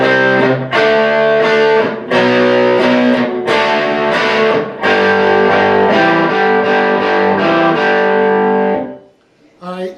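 Distorted electric guitar playing the chorus riff of the Black Crowes' Jealous Again with hammer-ons, loud strummed chord hits repeating in a driving rhythm before ringing out and stopping.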